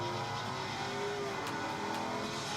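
An Audi S5 racing against Lamborghinis, Ferraris and Porsches in a video game, its engine droning steadily at high revs with a constant roar and no voices.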